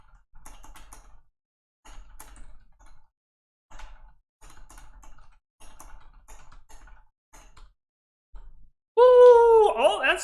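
Rapid computer keyboard typing in short bursts with brief pauses, close and clear, for about nine seconds before a loud voice suddenly cuts in.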